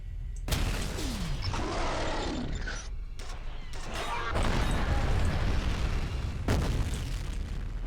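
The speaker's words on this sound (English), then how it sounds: "I thought that was a grenade." Grenade blast in the video game F.E.A.R., a sudden loud boom followed by crashing bursts and rumbling debris, with further sharp impacts later amid steady combat noise.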